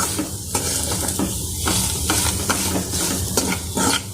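Potato pieces sautéing in a little oil in a pan give a steady broadband sizzle, broken by repeated scraping stirs of a spatula at irregular intervals, close and fairly loud with no talking.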